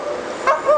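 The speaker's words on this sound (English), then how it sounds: "Quite a few dogs over in the dog park area on the western side of the park." Dogs in a dog park at Mary Bartelme Park in Chicago's West Loop, two short, loud barks close together over a faint outdoor background.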